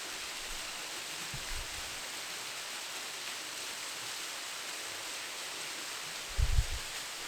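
A waterfall roughly 200 feet below a hiking trail in Ohio gives a steady, broadband rushing roar heard from above, continuous and unchanging, with a couple of brief low thumps nearby.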